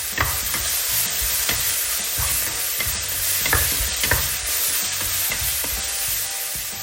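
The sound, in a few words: stir-frying Chinese chives with starch in a wok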